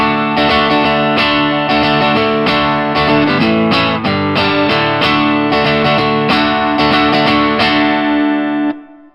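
An electric guitar plays the riff alone, loud and close with an overdriven, effects-laden tone, strumming repeated chord hits in a steady rock rhythm before cutting off at the end.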